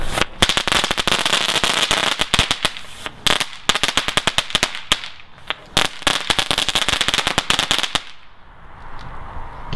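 A string of Weco Superhero class 1 firecrackers goes off outdoors, a loud, rapid, irregular crackle of sharp bangs lasting about eight seconds, then quiet with faint background sound.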